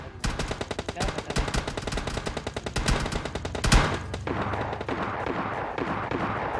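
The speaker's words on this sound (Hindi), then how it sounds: "हमको सामने से फायरिंग की आवाज आती है" Rapid automatic gunfire in the video game PUBG Lite, a dense, loud string of shots ending in a heavier blast, followed by quieter scattered shots and game sounds.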